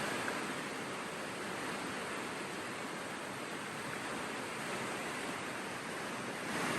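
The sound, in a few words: river water flowing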